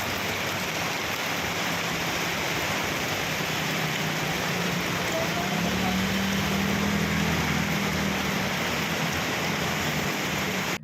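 Heavy rain pours over a flooded town street in Pattambi, Kerala, a dense steady roar of falling water and runoff that stays loud and unbroken throughout, with a low hum rising briefly midway.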